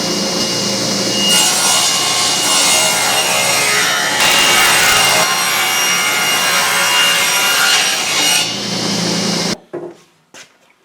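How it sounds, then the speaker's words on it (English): A saw rips lengthwise through wood stock at an angle during a camp door installation, a loud continuous cutting roar for about nine seconds that then cuts off abruptly, leaving a few faint knocks. "So now I'm going to take this stock and I'm going to just rip it at an angle like that"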